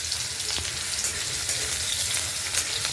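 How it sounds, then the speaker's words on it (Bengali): Cut potatoes sizzling in hot oil in a wok with cumin seeds, a dense, close, continuous frying hiss heard alone. "তারপরে কাটা আলু দিয়ে দিতে হবে"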